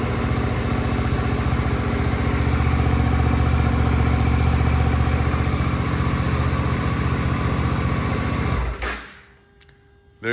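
Suzuki V-Strom 800DE motorcycle engine idling in neutral after a spark plug change, a steady close, loud running drone that holds for about nine seconds and then cuts off abruptly.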